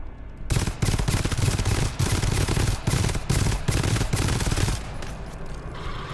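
Rapid, loud bursts of shotgun fire in a video game, several heavy blasts in close succession dominating the foreground before cutting off to quieter background sound.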